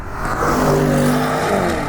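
A loud, close Audi RS 6 Performance V8 engine revs and growls with a deep, sustained rumble, its pitch climbing slightly before settling.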